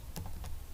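Brief tapping on a computer keyboard, two or three quick soft keystrokes over a low steady background hum, with no talk.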